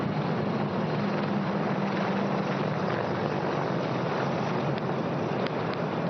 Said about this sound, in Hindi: इंडिया गेट के ठीक पास पहुंचते हुए अजय फॉर्मेशन में 3 अपाचे हेलीकॉप्टर